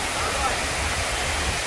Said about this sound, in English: that's where they start climbing the falls, of the famous Duns River Falls